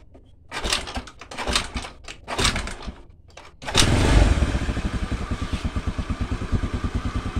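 A carbureted Honda Beat motorcycle, its battery removed, gets a few clattering attempts before the engine catches and settles into a close, steady, rhythmic idle.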